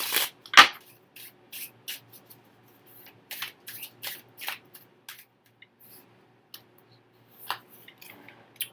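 A tarot card deck being shuffled by hand, a series of short crisp riffling and rubbing bursts with gaps between them, one sharp loud snap early on, close and alone without any talking.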